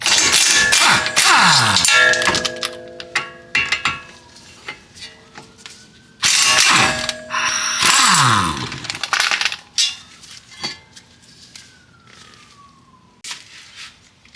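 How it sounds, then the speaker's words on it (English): Ratchet and 17 mm socket working the front brake caliper bolts on a 2007 Toyota Highlander Hybrid, heard as loud, fast metallic clicking bursts with clanks and tool scrapes, stopping and starting. "This one is a 17 millimeter, so I use 17 millimeter socket to remove these two bolts."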